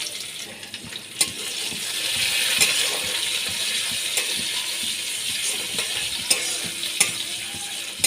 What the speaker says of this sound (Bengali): ভালো করে পেঁয়াজটাকে আমি লাল করে ভেজে নেব